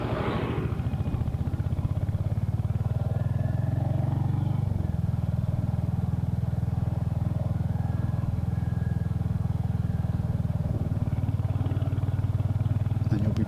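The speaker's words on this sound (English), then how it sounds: "a great tractor coming towards me" A tractor rolls along a country road in the Yorkshire Dales, its steady low engine drone loud and close throughout, with a faint clatter over the continuous rumble.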